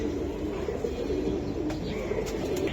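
Pigeons of a fancy tumbler breed coo softly and steadily in a bird market pen, a continuous low murmur with a few faint chirps near the end.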